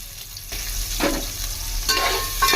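Chopped onion frying in oil in a pan for hotel-style sambar rice, a close, continuous sizzle with bursts of stirring scrapes, no talking.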